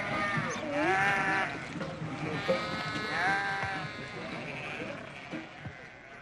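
Sheep or goats bleat repeatedly, several rising and wavering calls from a herd of livestock, fairly close, while a narrator speaks over them.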